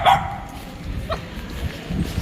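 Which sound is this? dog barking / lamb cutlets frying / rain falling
dog barking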